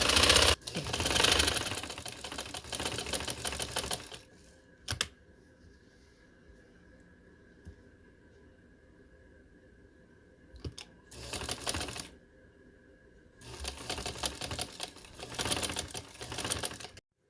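A sewing machine stitches lace onto a kurti neckline in separate runs, a fast rattling burst at the start and two more later, with a quiet pause and a short click between them.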